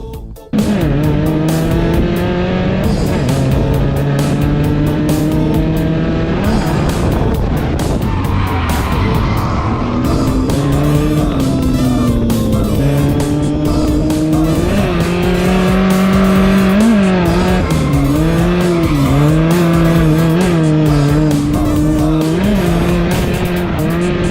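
Toyota Corolla AE86 on a drifting lap at Apple Valley Speedway, engine revving hard and continuously with sustained tire squeal and shifting pitch, loud and close throughout.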